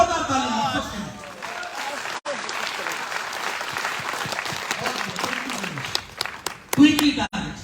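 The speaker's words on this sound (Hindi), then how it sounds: "जोरदार ताली सबके लिए।" An audience at a business seminar breaks into loud sustained clapping that fills most of the stretch, then thins into scattered claps near the end, with some voices mixed in.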